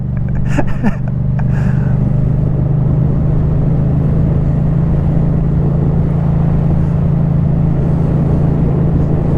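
A 2024 Yamaha MT-07 motorcycle ridden on the road, its engine a loud steady droning rumble with heavy wind roar throughout, briefly louder near the start.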